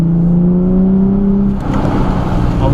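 A car on an autocross course at Pocono, its engine droning loud and close with a steady rising tone that shifts partway through as the driver gets back on the throttle.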